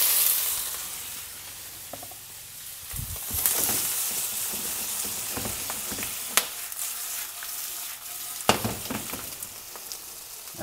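Sugar caramelizing in hot oil in a wok for Chinese braised red pork belly (hong shao rou), a steady close sizzle and bubbling hiss with occasional louder crackles and stirring scrapes, no talking.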